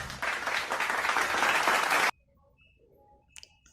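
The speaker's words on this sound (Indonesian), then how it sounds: "Yuk kita berikan tepuk tangan untuk kelompok 2" A fifth-grade class applauds a student group, giving a brisk burst of many small hands clapping for about two seconds. It cuts off sharply, leaving a quiet room with a few faint scattered sounds.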